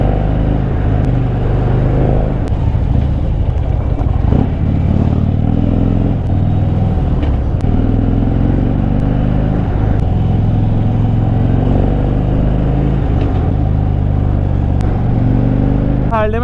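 A 2013 Harley-Davidson Dyna Classic riding on a mountain road, its engine a loud steady drone throughout, with someone talking over it.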